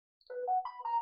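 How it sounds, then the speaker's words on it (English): A mobile phone ringtone goes off during a live talk broadcast: a short rising melodic electronic tone sequence of three or four notes, clear and fairly close, with no talk over it. "Sorry, phone."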